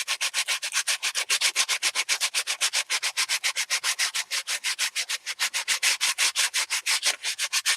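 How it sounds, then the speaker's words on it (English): Art journal pages being sanded back by hand, a steady loud run of rapid, evenly paced rasping strokes that continues without pause and with no talk. "But sanding is not a quiet job."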